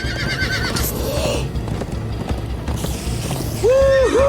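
Horses in the video game Minecraft: Story Mode gallop with a steady, rapid clip-clop of hooves, while shrill whinnies ring out early and again, louder, near the end.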